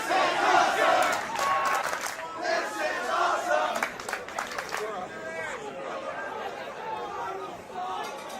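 A capacity crowd at an AIW wrestling event roars and chatters, a dense, loud wash of voices that swells early and then settles into a steadier hubbub, with a commentator's voice running over it.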